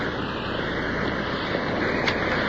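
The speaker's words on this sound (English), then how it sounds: "Coming up to the first waterfall." A waterfall pours into a deep pool, a steady broadband roar of rushing water without pause, fairly loud and close throughout.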